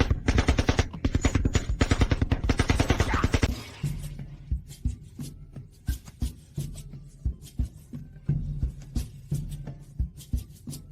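A Gatling gun fires a loud, rapid continuous burst for about four seconds, then shifts to slower, separated single shots and thumps, with no speech present.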